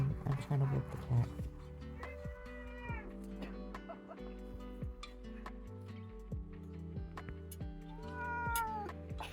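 A pet cat meows and complains indoors in a home sewing space, several drawn-out cries rising and falling, fairly close, over a background of music with a voice speaking.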